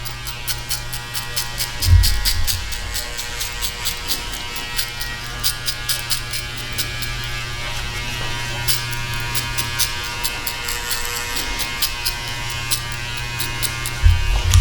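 Electric hair clippers buzz steadily during a skin fade haircut, a close, continuous high-pitched hum with faint bumps as the blade meets hair, and no talking.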